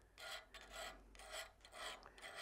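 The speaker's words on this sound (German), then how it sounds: "Und ich beginne mit dem Abziehen natürlich immer auf der Seite, wo der Grat ist." A new cutting edge on a boring tool is honed by hand to remove the burr, giving repeated rhythmic rasping strokes, about six back-and-forth passes, close and soft, with no talking.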